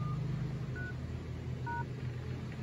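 Keypad dialing tones on an Oppo A53 smartphone while a code is entered: three short, distinct beeps, steady and fairly close, over a low background hum with no talking.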